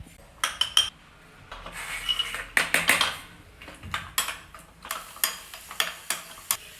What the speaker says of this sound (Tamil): இப்போ இதுக்கு வந்து முந்திரி திராட்சை வந்து நெய்யில் தாளித்து கொட்டிக்கலாம்.